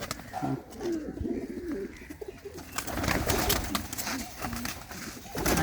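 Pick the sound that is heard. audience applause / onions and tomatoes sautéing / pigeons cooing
pigeons cooing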